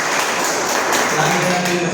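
A crowd at a network marketing business seminar breaks into steady applause, a dense wash of clapping that fills the whole moment alone, with no voices over it.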